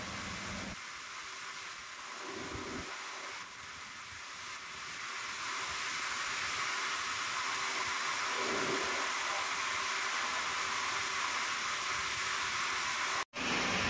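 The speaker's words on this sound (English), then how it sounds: "Now another bellow is being compressed axially using load testing machine." A load testing machine axially compresses a rubber piping bellow inside a protected test area. It gives off a loud, steady broadband hiss and hum that runs continuously and cuts out briefly near the end.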